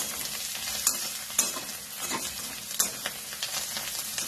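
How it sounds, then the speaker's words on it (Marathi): Papdi beans stir-fry in a pan, soft sizzling broken by sharp clinks and scrapes of a spatula at uneven intervals, close and moderately loud with no talking. "आता हे चांगलं परतून घ्यायचं"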